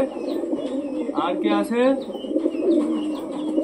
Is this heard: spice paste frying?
no